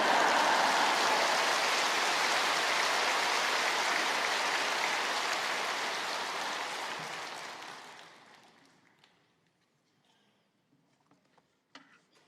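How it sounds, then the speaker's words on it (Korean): A large church congregation at a seminar service gives a big round of applause to welcome the pastor, loud and dense clapping that holds steady, then thins and dies away into near silence with a few stray sounds. "큰 박수로 목사님 맞이하시겠습니다"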